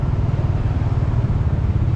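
Road traffic on a bypass road near an airport, where road repairs slow the flow: a steady, dense rumble of vehicle engines, continuous and fairly loud, with no voices.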